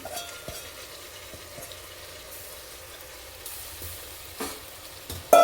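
Lentils fry in oil with a soft, continuous sizzle, broken by a few quiet stirring knocks and a louder scrape at the end, close by with no talking.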